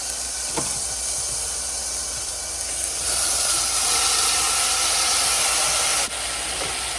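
Pickled jalapenos hit a hot pan over medium to medium-low heat, giving a steady broad hiss and sizzle that swells louder partway through, with no voices.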